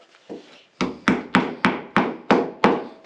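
A hammer taps an alligator-style plastic anchor into a drilled quarter-inch hole in a garage wall, seven sharp, evenly spaced knocks after a couple of soft lighter touches, close and clear with no talking.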